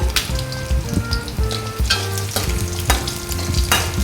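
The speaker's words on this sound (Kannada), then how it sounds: "ಜೀರಿಗೆ ಸ್ವಲ್ಪ ಫ್ರೈ ಆದ ನಂತರ ಜಜ್ಜಿಟ್ಟ 7ರಿಂದ 8 ಬೆಳ್ಳುಳ್ಳಿ, ಹಾಗೆ ಉದ್ದುದ್ದಕ್ಕೆ ಹೆಚ್ಚಿಟ್ಟ ಶುಂಠಿ" Crushed garlic and sliced ginger fry with cumin for tomato rasam, giving a continuous close sizzle that runs beneath tonal background music, with no voices.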